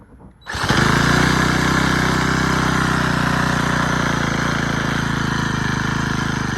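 A weed eater's small two-stroke engine, cold-started with a jump-start tool, catches almost instantly and runs at a loud, steady, buzzing high-pitched drone close by.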